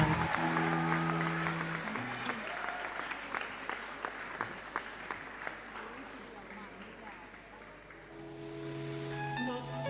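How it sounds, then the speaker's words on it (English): A loud round of clapping from the audience at a school competition rolls on steadily, gradually thinning out, while an announcer's voice speaks over the start and end. "Audience, we need a loud round of applause."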